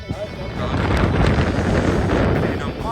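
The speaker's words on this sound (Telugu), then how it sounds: "కూల్ బ్రీజ్ కాదు ఇది విండ్ ఇది" Strong wind at about eleven thousand feet in Colorado buffets the microphone in a loud, continuous rumbling roar, with a voice partly buried beneath it.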